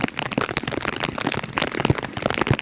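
Heavy rain pelts a hard surface up close, a dense, uneven patter of countless drops with no voices.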